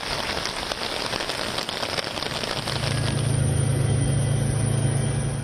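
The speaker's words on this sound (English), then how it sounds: "Torrential rains wreaked havoc across Spain this week." Torrential rain pours in Spain's Valencia region, a dense, loud and steady hiss of rain pounding surfaces, joined partway through by a low engine-like hum, with no voices.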